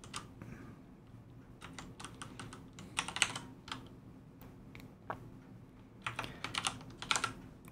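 Keys clatter on a computer keyboard while a FreeBSD config file is edited, in uneven bursts of close, light clicks with short pauses between them.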